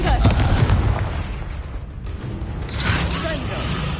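Bombarda and Confringo spell blasts go off in a Hogwarts video game, with booming bursts and crackling impacts in quick succession amid loud combat noise, mixed with shouted voices.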